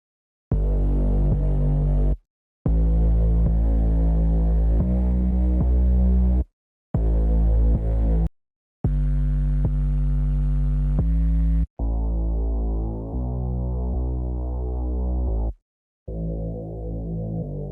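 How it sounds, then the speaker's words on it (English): A thick, buzzing Reese bass synth drones in long sustained notes separated by short silences; the final notes sound duller and darker. "The bass is made up of a lot of thick basses such as a Reese bass."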